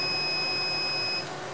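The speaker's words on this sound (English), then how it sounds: "we should get a beep from the actual controller that indicates that this got downloaded" A big laser cutter's controller emits a single steady electronic beep lasting about a second, clear above a low machine hum that continues after the tone stops.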